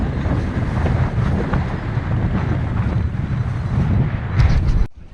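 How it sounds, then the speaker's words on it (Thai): Strong wind roars and buffets the microphone aboard a fishing boat at sea off Bang Saphan. A dense, steady rush of noise runs throughout and then cuts off abruptly at the end. "ลมแรงมาก"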